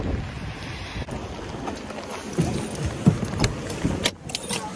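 Wind gusting at a cold winter coastline, a steady broad roar with rising gusts, with faint clinks and handling noise close to the microphone.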